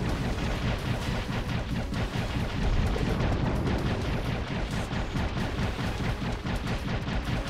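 Explosions in the video game Dave the Diver, a dense, loud, continuous barrage of blasts and rumbling booms filling the whole stretch without letup.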